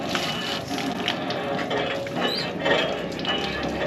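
A hand pump worked at Jhang Saddar railway station in Pakistan, a continuous close creaking and clanking of the mechanism with rhythmic metallic knocks and splashing water.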